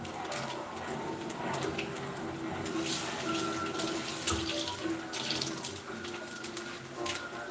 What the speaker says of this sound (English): Run a little water over the spinach.